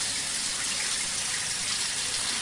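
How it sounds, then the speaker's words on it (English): Tap water runs in a steady, even gush while rice is rinsed and drained in a sink, with no breaks or voices. "Drain it so you get all the impurities out of the rice."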